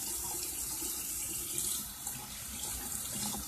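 Tap water runs steadily into a bathroom sink while a child washes soapy hands, a soft continuous splashing hiss with no voices over it.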